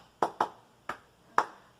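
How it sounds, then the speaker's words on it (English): Hands clap four times, close and crisp, as two quick claps, a pause, then two more spaced apart, with quiet room tone between them. "I can clap my hands,"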